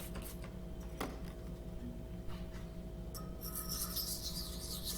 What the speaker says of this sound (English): here I am setting the bevel for the first time